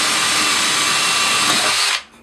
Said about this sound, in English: Doing a quick bit of drilling